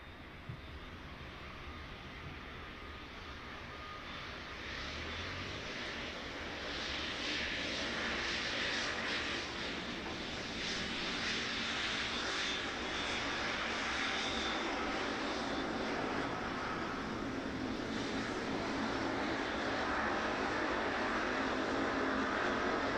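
An airplane landing on the runway at East Midlands Airport in the evening, heard as a broad engine roar that swells steadily from moderate to loud and holds, with no voices over it.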